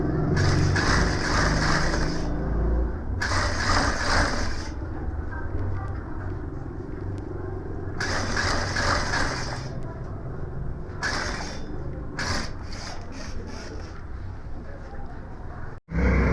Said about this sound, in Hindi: पहले यहाँ से हम सिलाई करेंगे बिल्कुल किनारे से।